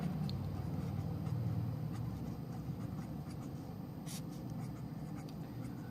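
A pen scratches steadily across paper as a question number is written at the top of an exam answer sheet, faint continuous scribbling over a low background hum.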